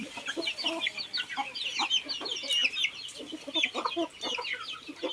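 Black-bone chickens cluck steadily at close range, with short overlapping calls and a few higher squawks from several birds at once, over a busy farmyard background.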